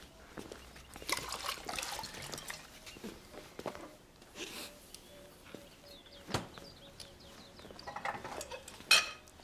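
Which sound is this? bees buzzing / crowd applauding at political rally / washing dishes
washing dishes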